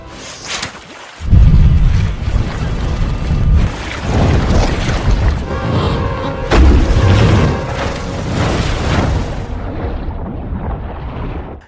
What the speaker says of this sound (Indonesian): Ia akhirnya menembakkan flare gun ke arah hiu tersebut sampai terbakar.